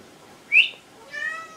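A pet cat meows twice in a quiet room, a sharp rising cry followed by a softer, longer drawn-out call, with no talking.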